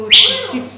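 A parrot at a parrot sanctuary gives a loud, sharp call, a quick bright chirp followed by a shorter second note, close by with no talking.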